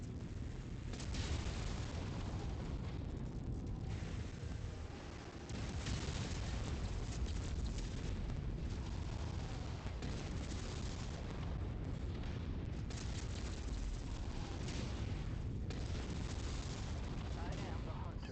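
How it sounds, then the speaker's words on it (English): Mech weapon fire and explosions from an AT-10 in the MechWarrior 5: Mercenaries video game, a dense, continuous barrage of booms and bursts, fairly faint overall, with no pauses. "This is AT-10 shooting at me."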